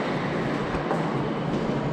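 Inside a moving Tokyo subway train, a steady broadband rumble and rushing noise fills the car throughout, close and even, with no talking.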